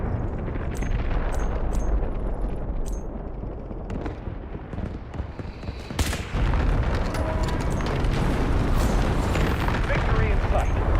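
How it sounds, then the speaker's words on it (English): Guided missile launch and explosions in the military shooter game Delta Force, a loud continuous battlefield din of booms, gunfire bursts and blasts with a sharp surge midway, with voices speaking over it. "Guided missiles launched"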